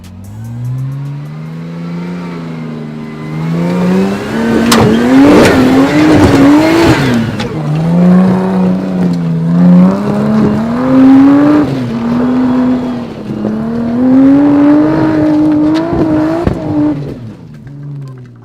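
A 4WD engine labors and revs hard up a steep, gnarly climb in the Otways, pitch rising and falling in loud sustained surges with brief throttle lifts, continuous for the whole stretch with no talk.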